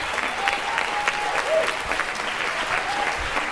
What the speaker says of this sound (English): Jazz Workshop players, give them another big round of applause